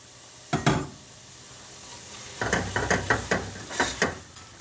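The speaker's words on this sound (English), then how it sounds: "I'm going to put ginger garlic paste." Ginger garlic paste sizzles in hot oil with a couple of sharp bursts, then a run of rhythmic stirring scrapes, close and moderately loud, no talking.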